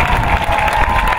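Outdoor audience at a Chishang autumn harvest music festival concert clapping and cheering, a brief, loud wash of applause with crowd shouts.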